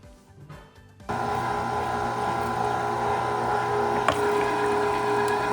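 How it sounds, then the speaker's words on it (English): Electric meat grinder starting up and running steadily while grinding pork butt for sausage, a loud continuous motor hum with a brief clack partway through. "It should do pretty good just going through this grinder."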